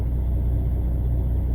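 A truck engine rumbles steadily from inside the cab while driving, a continuous low drone with no voices.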